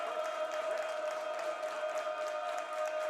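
Baseball crowd noise at a college game between UNF and Florida State, a steady distant murmur of the stands with faint hints of clapping, even and unbroken.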